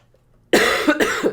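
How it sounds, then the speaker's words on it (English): A person coughs, a sudden burst followed by two or three quick harsh coughs in a row, close and clear after a brief quiet moment. "I told you I might start coughing."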